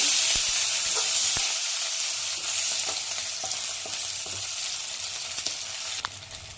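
Onions fry in hot oil in a pan for an egg and dried prawn curry, giving a loud, steady sizzle up close, broken by occasional scrapes and clicks of stirring.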